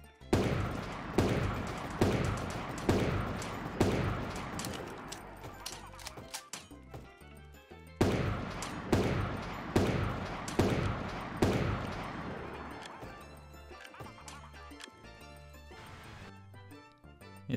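Hunting rifle fire in Super Animal Royale comes as rapid, evenly spaced cracks in two long bursts separated by a short pause, loud and punchy, with a quieter tail of scattered shots afterward.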